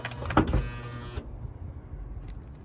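Honda Odyssey door locks actuating, a brief burst of mechanical clunks and whirring in the first second, followed by quiet background with faint ticks.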